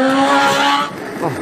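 A fast car at a motor racing event roars past with a loud, tonal engine whine and tyre squeal, then drops away abruptly, leaving a brief fainter screech.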